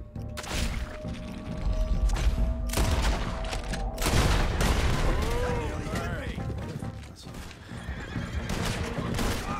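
Gunfire erupts in Red Dead Redemption 2, sharp bursts and volleys amid horses whinnying and clip-clopping hooves, loud and dense, with voices talking throughout.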